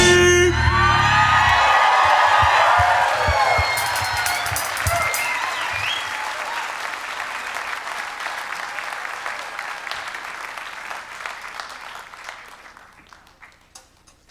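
An audience at a cowboy poetry gathering breaks into screams, whoops and applause, loud at first with shouted cheers, then the clapping gradually thins and fades away.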